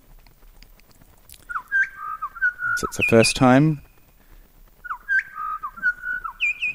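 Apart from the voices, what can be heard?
hermit thrush song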